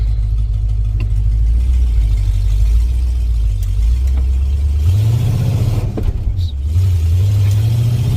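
A car engine fitted with Holley Sniper fuel injection and lacking mufflers rumbles loudly and close, then swells through a revving throttle rise near the end before settling back to a heavy idle.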